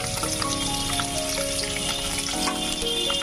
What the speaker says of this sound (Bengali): এখন আমি পনিরগুলোকে ভেজে নেব